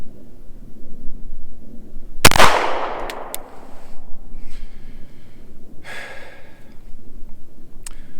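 A single sharp, loud FN 509 pistol shot at an outdoor range, cracking suddenly and decaying, followed by quieter handling noise, breathy sounds and a few faint distant clicks, with no talk.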